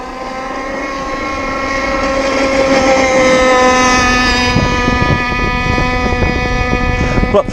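A ZippKits Vbox cracker box RC model boat's engine screams on the water, a loud, sustained high-pitched whine that swells in the first few seconds and then holds steady with slight wavering.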